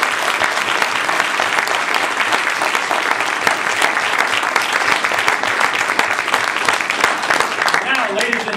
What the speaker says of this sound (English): Another big round of applause for all our tabletop contestants.